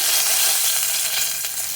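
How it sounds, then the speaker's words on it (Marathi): Curry leaves sizzle in hot oil for a curry tempering, a steady, loud, close crackling hiss that runs unbroken throughout with no voices. "फोडणीला मी फक्त कढीपत्ता देत आहे, कढीपत्ता टाकत आहे"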